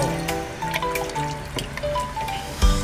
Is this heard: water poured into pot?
yes